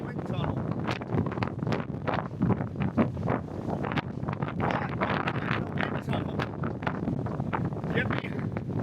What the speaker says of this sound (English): I'm actually caught in a wind tunnel.